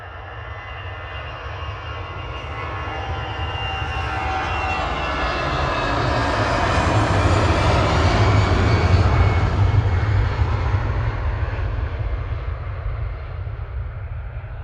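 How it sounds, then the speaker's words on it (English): An EasyJet Airbus A320 Classic departs runway 23 left at Manchester Airport in the evening, its steady jet engine roar swelling to a loud peak midway, then easing slightly, with heavy low rumble throughout and no talking. "Departing on 23 left now is EasyJet 705 to Belfast, GZTB, A320 Classic"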